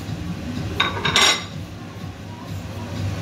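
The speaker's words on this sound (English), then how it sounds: "Give it a bit of a stir in." Thai basil chilli beef with spring onion being stirred in a pan, a short burst of utensil clinks and scraping against the metal near the middle, set over a steady low kitchen hum.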